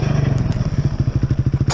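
A dirt bike rides across hard, thin ice, its engine a close, loud pulsing drone of rapid regular beats, with scraping and clattering over the surface and a sharp crack at the very end.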